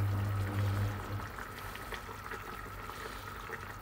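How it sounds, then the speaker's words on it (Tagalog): Water poured into a cooking pan of porkchop steak with fresh coconut milk, a close, steady splashing pour that fills and settles as it goes on, with no talking. "Lagyan natin ng tubig, sayang."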